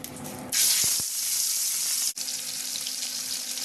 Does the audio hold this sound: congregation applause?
no